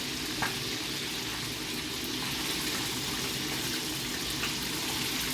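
Fish for brown stew frying in a pan, a steady broadband sizzle with faint stirring scrapes, close and continuous throughout.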